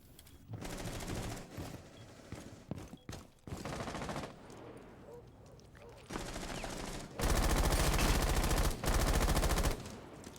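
Rapid automatic gunfire from a video game during an esports match, bursts growing louder and denser, with a long sustained spray near the end.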